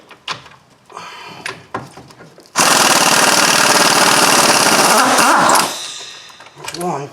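An impact gun rattles loudly for about three seconds on tight brake caliper bolts of a 2008 Hyundai Elantra during a front brake job. Scattered clanks and brief talk come before and after the burst.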